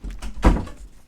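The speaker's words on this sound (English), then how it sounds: "Okay, close the door." An indoor door swings shut with a single close, solid thunk and a short muffled rumble after it.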